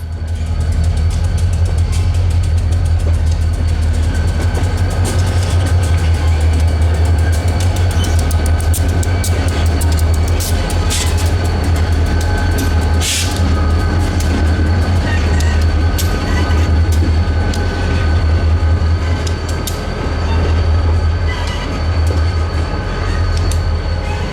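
SD40-3 diesel locomotives ease past as a light power move on the Aberdeen Carolina and Western, a steady loud rumble of idling engines and rolling wheels holding for the whole stretch with faint squeals and clanks.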